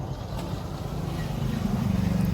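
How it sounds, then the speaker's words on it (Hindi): A tractor drives on a farm, hauling loaded bundles of straw, with a low steady engine rumble that grows slightly louder and more throbbing toward the end, close to the microphone with some wind. "लादने के बाद फिर ट्रैक्टर पे बैठे, लेके चल दिए घर को अपने फार्म पे"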